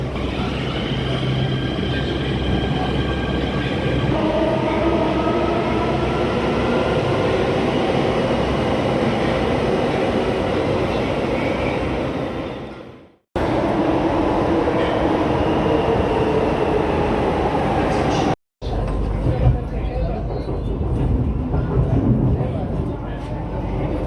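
Delhi Metro Blue Line train running, a loud continuous rumble and rail roar across the whole stretch with two brief dropouts, while a person talks over it.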